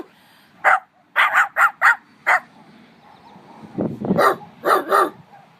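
A dog barks back at a human imitation of a dog call, with the imitated calls and the answering barks trading in short bursts: several sharp close barks in a cluster, then lower growly sounds and two more barks.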